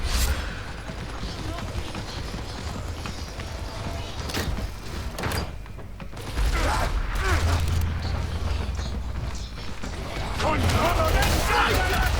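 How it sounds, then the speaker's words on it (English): A grenade blast in the video game Warhammer 40k Darktide, heard as a sudden low boom amid chaotic combat noise and mechanical clanks, with a player shouting over the action. "Grenade!"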